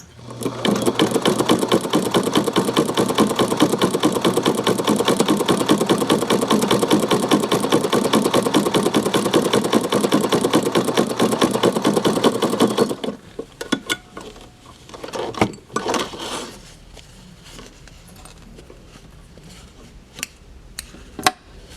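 A Singer Zigzagger attachment on a sewing machine stitches in a loud, fast, steady mechanical chatter for about thirteen seconds, then stops, leaving scattered handling clicks and knocks.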